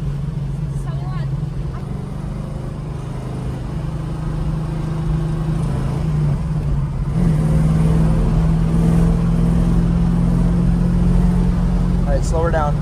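A Dodge Hellcat drives along an open road, its engine holding a steady, loud droning hum with road and wind noise throughout and a slight swell partway through.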